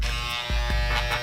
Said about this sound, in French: Je vais raser.